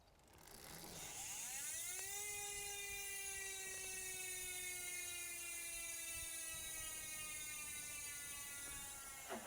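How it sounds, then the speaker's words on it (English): A fast, very high-pitched buzz from an Industry 9 freehub on Reynolds wheels, rising quickly into a steady whine, sustained and close with a slight downward drift. "That is the sound of an Industry 9 hub on a Reynolds wheels."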